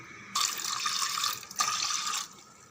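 Green gram is washed under a running kitchen tap, giving a steady close stream of water that splashes and briefly changes as the grains are stirred, with no talking.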